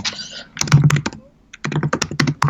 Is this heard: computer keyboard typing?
yes